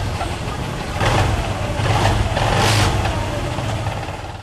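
A Honda Click 150i scooter engine runs with a suspected abnormal noise during a maintenance check, giving a steady, close broadband drone that swells slightly in the middle with no talking.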